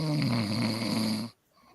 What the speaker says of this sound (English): Which one of you guys is snoring?